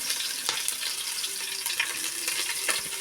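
Curry leaves, chopped ginger and green chillies fry in hot oil with mustard seeds for rava vada, giving a steady, close, bright sizzle with scattered pops and crackles and no talking.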